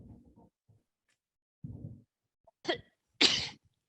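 A sharp, explosive sneeze bursts out near the end, preceded by a short intake of breath, after some brief low murmuring talk.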